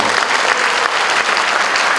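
A dense, loud burst of audience applause fills a Korean book-launch event hall, continuous clapping with no speech.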